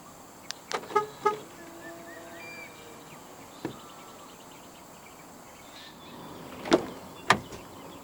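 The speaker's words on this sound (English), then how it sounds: "to roll all of them back up together, just press and hold on the lock button" Power windows of a 2024 GAC Aion Y Plus Elite rolling up together when the lock button is held, heard as a few short mechanical clicks and thumps in a quiet cabin, with louder thuds as the glass seats near the end.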